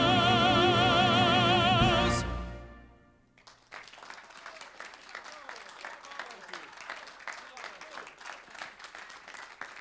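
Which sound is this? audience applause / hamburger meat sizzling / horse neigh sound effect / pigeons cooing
audience applause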